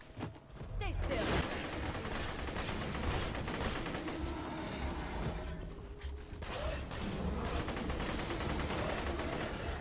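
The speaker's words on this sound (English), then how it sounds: "this elemental pistol we picked up earlier is not that bad as long as you don't mind reloading every three shots" Elemental pistol gunfire in Borderlands 2, a loud, dense barrage of rapid shots and mechanical clatter running through the whole stretch, with a brief lull and then more firing.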